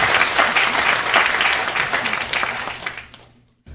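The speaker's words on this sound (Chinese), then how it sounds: "我们用最热烈的掌声来欢迎我们今天的主讲者" At a lecture in Kaohsiung, an audience breaks into dense, steady applause to welcome the speaker. It fills the room evenly, then thins out and fades to near silence at the end.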